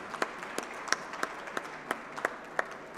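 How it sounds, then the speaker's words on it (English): Sparse, moderate applause from an audience at an industry panel on manufacturing, with a few distinct individual claps standing out over a soft, steady background of clapping. "let's give these ladies and gentlemen a round of applause"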